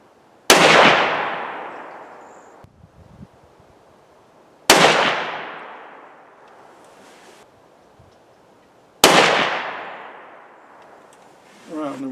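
Three loud, sharp gunshots about four seconds apart, each with a long decaying echo, fired outdoors from an S&S drilling shooting 8x57JR reloads, with a faint voice in the background after the last shot.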